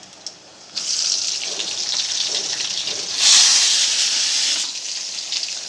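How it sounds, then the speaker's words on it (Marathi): Finely chopped onion hits hot oil for a boiled potato dish, breaking into a loud, close, continuous sizzle that swells briefly and then settles into a steady hiss. "आता ह्याच्यामध्ये आपल्याला कांदा घालायचा आहे बारीक कट करून घेतलेला"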